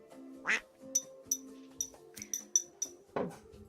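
A cartoonish duck-quack sound effect plays in quick succession, about eight sharp, loud quacks with brief gaps between them, clear and close.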